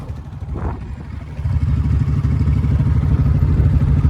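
A Royal Enfield Bullet motorcycle rolling forward, its thumping single-cylinder engine chugging steadily close by and growing louder partway through, with a rapid rhythmic beat and no talk.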